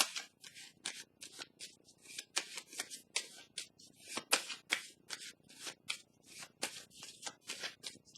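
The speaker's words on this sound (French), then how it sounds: "Je vais déposer une carte ici pour le signe du Taureau" Tarot cards handled on a table, a rapid series of soft papery slaps and rustles in an uneven rhythm, quiet and close.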